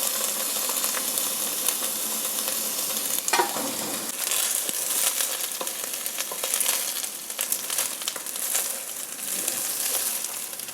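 Rice grains frying with spices in oil for chicken biryani: a continuous close sizzle and hiss, with scraping stirs running through it and no voices.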